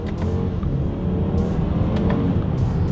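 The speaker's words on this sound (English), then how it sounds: "Let's do a quick little acceleration here. And let's see how quickly these paddle shifters react for us here." A 2020 BMW X3 accelerating hard with quick paddle-shift gear changes, a loud, steady engine roar heard from inside the cabin, with no talking.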